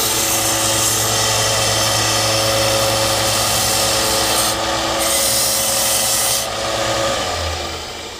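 A grinder deburrs the end of steel bicycle tubing in a loud, steady, close grinding rasp lasting about seven seconds before tailing off.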